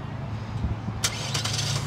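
A 2018 Chevrolet Equinox FWD LT engine starts by remote start on a hot Florida day, a sudden crank and catch about halfway in that settles into a steady idle.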